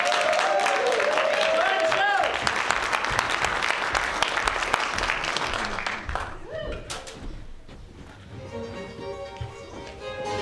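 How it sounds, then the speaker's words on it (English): Theatre audience at a stage production of the farce Noises Off bursts into a loud round of applause that fades out after about six seconds, followed by actors speaking on stage. "I'd like to start off with a big round of applause for the people waiting in the wings"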